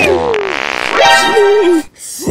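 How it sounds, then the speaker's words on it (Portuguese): A loud, drawn-out fart in a comedy sketch, fluttering and rumbling before it bends into a rising, squeaky tail and cuts off abruptly. "pode peidar à vontade"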